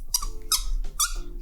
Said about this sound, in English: Gotta love the squeak of the cap.